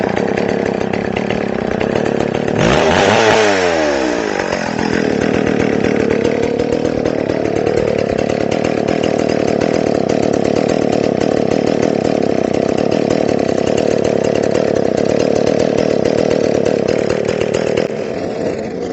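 A McCulloch Pro Mac 610 chainsaw starts with a brief rev, then settles into a loud, steady close-up idle that runs unbroken for the rest of the stretch, with no talking.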